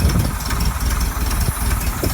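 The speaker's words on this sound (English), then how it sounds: "is a sweet sounding engine." Air-cooled 1957 30 hp engine from a Volkswagen Oval, running without an air filter and with a slightly loose fan belt, idles loudly and close up with a steady, throbbing low rumble.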